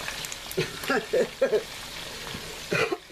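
Homemade pork cracklins frying in hot oil, with a bubbling hiss broken by scattered pops and crackles at close range.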